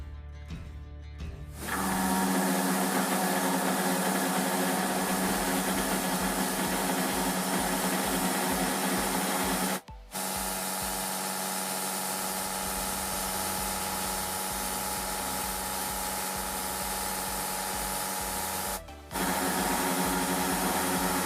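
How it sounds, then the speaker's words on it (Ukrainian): An ISCAR milling tool cuts on a long overhang extension with a steady, even machining hum and no chatter, broken by two brief pauses partway through. "Прислухайтесь, як може безшумно виконуватись операція на довгому вильоті в порівнянні із стандартним подовжувачем"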